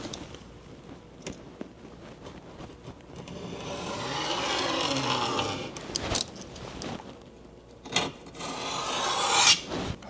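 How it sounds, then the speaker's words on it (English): A hard card's felt edge presses and rubs along the edges of window tint film, giving a steady rasping scrape that swells and fades over several seconds, with a few sharper scratchy strokes toward the end. "Hard card. Felt side. Just gonna press down those edges."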